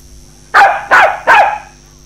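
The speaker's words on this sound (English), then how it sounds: "It's a dog." A dog barks three times in quick succession, loud and close, with nothing else around it.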